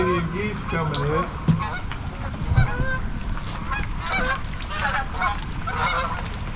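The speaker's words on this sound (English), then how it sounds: "we got some Canadian geese coming in" Canada geese honk repeatedly as a flock comes in over a fishing spot, a loose chorus of nasal calls, some nearer and louder, over a steady outdoor background.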